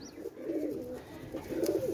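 Fancy pigeons cooing in a loft, a steady run of low, throaty rolling coos, close and fairly soft, with no talking.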